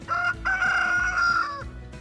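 A rooster crows once in a garden with chickens scratching in compost, loud and close, a long drawn-out call lasting over a second, with a soft cluck before it.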